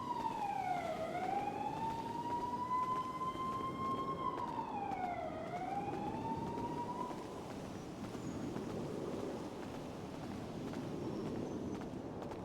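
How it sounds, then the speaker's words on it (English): A police siren wails across a video-game city, one long rising and falling tone that fades after several seconds, faint and distant over a steady hum of ambient noise. "Welcome to the city, where every 2 minutes you hear police sirens."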